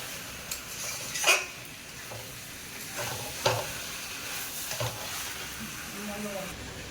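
Chicken sautéed and stirred in oil in a pan, a soft steady sizzle broken by occasional spoon scrapes and knocks against the metal, fairly faint and without talk.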